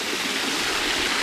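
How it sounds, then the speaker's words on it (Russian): Cold water rushing steadily in a small Crimean stream, a close, even broadband wash with no pauses. "Вот так бежит вода"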